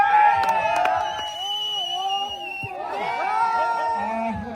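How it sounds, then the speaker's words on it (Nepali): Crowd at the opening of an outdoor summer community picnic in a state park, whooping and cheering in a lively, overlapping burst of voices and shouts. "ताली बजाइदिनु धन्यवाद।"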